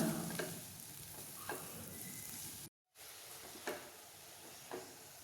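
Chili flakes and asafoetida being stirred into a dish in a hot pan, with a steady low sizzle and several soft scraping stirs, broken by a brief silent gap.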